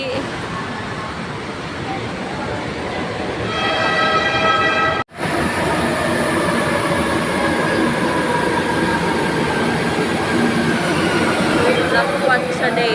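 An MRT metro train rumbles loudly and steadily up close, with tonal whines and squealing wheels rising over the roar, interrupted by a sharp break midway.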